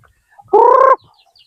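A single loud, harmonic chicken squawk lasting about half a second, close by, as chickens are being caught, with quiet surroundings before and after.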